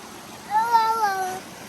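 A single drawn-out meow rises and falls in the foreground against quiet background noise.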